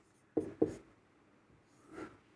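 A few brief scratchy strokes of a pen on paper as numbers are written out by hand for a times table, two sharp marks close together and a softer one after a pause, near and quiet.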